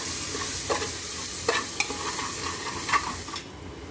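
Garam masala being stirred into a mixture in a pan, heard as a steady close sizzle broken by a few soft scraping strokes of a spoon, with no talking.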